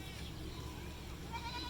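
A goat bleats faintly in the distance over low outdoor rumble at a mini zoo in Simpang Renggam, Malaysia.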